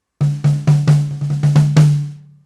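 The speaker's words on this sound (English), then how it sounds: "The first tom, also known as tom 1." The first tom of a drum kit is struck eight times in a steady, fairly quick run. Each hit gives a loud, close, pitched thump with a short ring, and the last one sustains and fades out.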